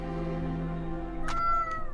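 A loud cat meows in a single drawn-out call near the end, rising over a steady low hum and background tones, close and fairly strong.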